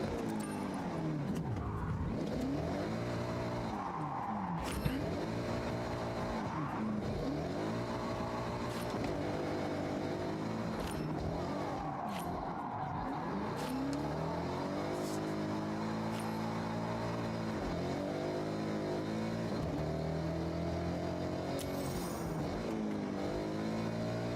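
Game car engine in Forza Horizon revving and pulling hard through repeated rising and falling gear sweeps, loud and steady throughout, with occasional tire noise and a voice faintly in the mix.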